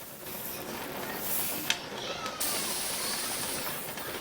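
A pressure canner loaded with corn vents steam in a steady, close, broadband hiss that runs throughout, with a brief click near the middle.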